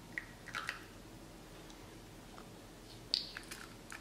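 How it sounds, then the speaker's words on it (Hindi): Cake batter with vanilla essence being mixed for a yogurt tutti frutti cake, faint soft squishing and light scraping taps at scattered moments, close but quiet with no talking. "इसको भी अच्छे से मिक्स कर देंगे।"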